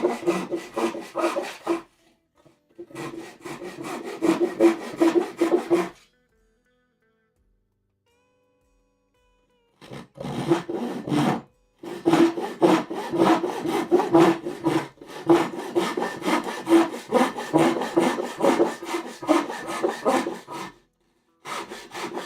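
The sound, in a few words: hand sawing wood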